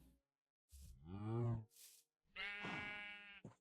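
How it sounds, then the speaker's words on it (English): A Minecraft sheep bleats twice, clear and close, each a short wavering baa with a brief gap between them. "how did the sheep get in here?"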